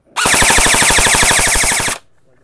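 An HFC airsoft rifle fires one loud, close burst on full auto, a rapid even stream of mechanical shots lasting nearly two seconds that then stops abruptly, leaving quiet.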